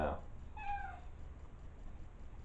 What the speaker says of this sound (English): sorry, my cat just came in here.